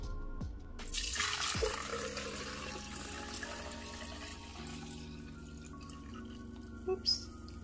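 Aloe vera cactus juice poured into a glass, a steady liquid stream near and fairly loud at first, then settling into softer trickling with a couple of brief splashes near the end.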